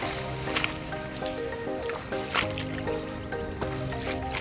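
Feet slosh and squish through shallow water on a rural hunting trail, steady splashy steps with wet drips, close and moderately loud, with a faint voice in the background.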